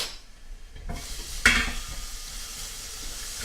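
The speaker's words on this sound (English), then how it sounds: "Stir it around." Onions and garlic sizzle softly in a frying pan while a spoon stirs them, with a faint hiss and a brief clink of utensil against the pan, quiet and close.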